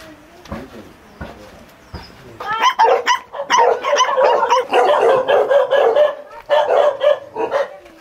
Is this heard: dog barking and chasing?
yes